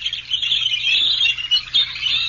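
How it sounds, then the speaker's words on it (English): Birds chirp densely and continuously at the Indiana Dunes, a steady, fairly loud chorus of high tweets with no talking. "Those birds."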